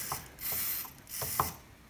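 An RC servo driving an airplane elevator surface, controlled through a transmitter trim switch: short whirring mechanical bursts, several in sequence with brief pauses, close and fairly loud with no voices.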